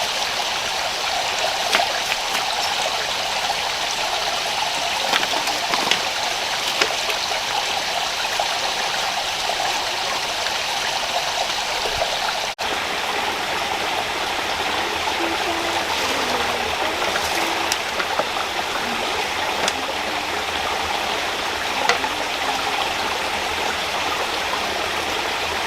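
A rainforest river stream flows steadily beside a raised bamboo camp, a constant close rush of water with gurgling texture throughout, no voices.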